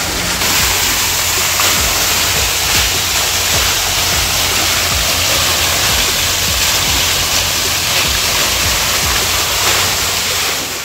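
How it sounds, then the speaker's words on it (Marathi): Water flows in a loud, continuous rushing wash, like a fountain or cascade at a museum in Hadshi, Pune, holding steady for the whole stretch with no talking. "पाण्याचा आवाज आहे"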